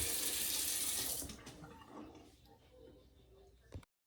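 Hot water runs from a tap over a razor being rinsed while shaving a beard, a loud close splashing rush for just over a second, then quieter clatter and handling noise before a sudden cutoff.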